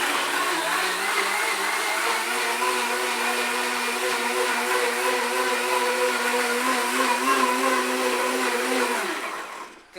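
Blendtec blender with a 4-inch blade running at high speed, a loud steady whirring roar that holds for nearly ten seconds, then winds down abruptly.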